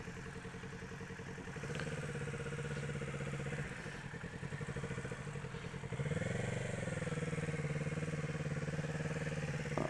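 A motorcycle engine runs steadily through a slow U-turn during a riding lesson, a mid-pitched idle with a clattering edge that picks up a little throttle partway through and stays close and continuous.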